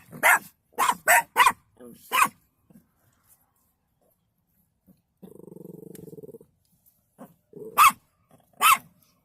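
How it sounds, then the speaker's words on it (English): Chihuahuas yap aggressively in a rapid burst of sharp barks, then one lets out a low sustained growl, followed by a few more close, loud yaps. "yapping chihuahuas who act aggressively"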